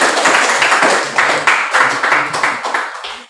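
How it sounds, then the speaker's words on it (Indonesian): A classroom of students clapping together after a lesson, a brisk burst of hand claps that pulses in a few uneven waves and tapers off within seconds. "Oke, terima kasih. Tepuk tangan."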